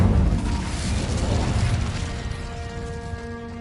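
A sustained whooshing, roaring burst of fire from an Incendio spell in a Harry Potter video game, loud and dense at first and then slowly fading with a faint ringing tail, no talk.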